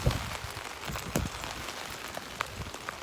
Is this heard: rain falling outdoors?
yes